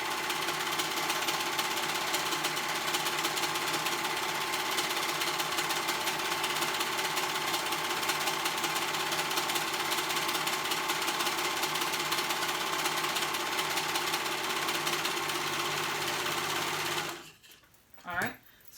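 A sewing machine runs one long continuous stitching pass down the side seam of a pair of joggers, steady and close up, then stops abruptly with a couple of small clicks.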